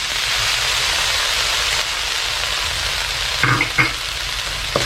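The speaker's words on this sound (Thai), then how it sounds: "จะเติมเป็นซอสปรุงรส ประมาณหนึ่งช้อนชานะฮะเพื่อความหอมลงไปที่ขอบกระทะอย่างนี้นะฮะ" A loud, steady sizzle of seasoning sauce poured onto the edge of a hot wok, with a few clinking knocks of a utensil near the end.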